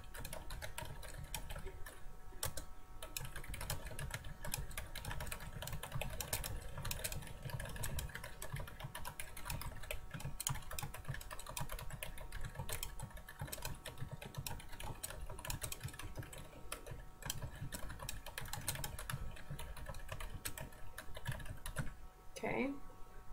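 Continuous rapid typing on a computer keyboard runs throughout, soft and steady beneath a constant low background hum, with a voice talking at times.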